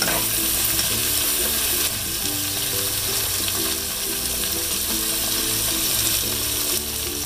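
Pork caldereta ingredients sautéing in a pan make a steady, loud, close sizzle and crackle with no break for the full length, with faint ticking stir sounds underneath and no talking.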